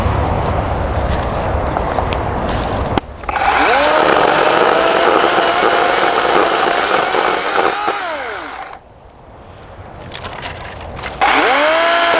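A battery-powered chainsaw cuts through hard, dead, fallen plum wood, its loud motor whine bending in pitch as the chain bites, with two long cutting passes separated by a quieter idle and no speech.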